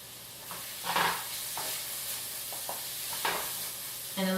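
Cauliflower sautéing with sumac and za'atar gives a low steady sizzle broken by several spoon scrapes and stirring clatters, close by, with no speech.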